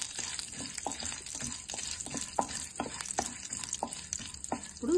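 Urad dal, chana dal and mustard seeds fry lightly in hot oil with a steady close sizzle, while a spoon stirs through them in repeated soft scraping strokes.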